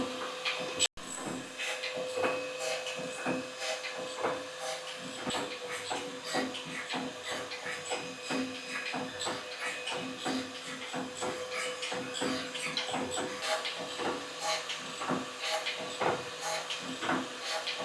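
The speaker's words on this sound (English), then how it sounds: "what I could do is surface grind them" A surface grinder takes a cosmetic pass over a steel part held on a magnetic chuck with a hollow in it, giving a steady, continuous hissing grind throughout with a sharp click near the start.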